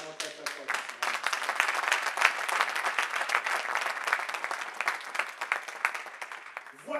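Congregation applauding in a church, a dense, close burst of clapping that swells and rolls on for several seconds before tapering off.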